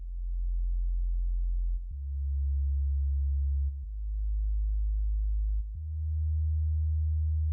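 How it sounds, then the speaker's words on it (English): Deep, clean sub bass from an electronic music production plays as sustained low sine-like notes, changing pitch in four long held steps, smooth and steady with nothing else in the mix. "this is what the sub bass sounds like in the first half of the verse."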